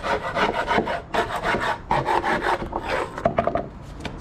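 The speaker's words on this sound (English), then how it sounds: "sand and get rid of the old paints before buy the new paints" Rhythmic rasping strokes of sandpaper scrubbing old paint off a surface to level it before repainting, steady and close with brief pauses between passes.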